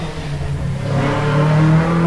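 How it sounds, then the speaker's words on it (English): A Datsun 1600 race car at the Historic Leyburn Sprints is driven hard, its engine revving loud and close, the pitch climbing steadily over a continuous throaty roar. "Goodness me, he's thrashing the car within an inch of its life."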